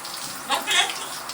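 Shower water sprays and splashes as a pet bird is bathed, a soft continuous patter with a couple of louder gushes partway through, close by and fairly quiet.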